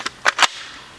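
A single sharp report from an AEA Megalodon .457 air rifle, preceded by a faint click and a quick double crack, then a short decaying tail into quiet; loud and close, no talk.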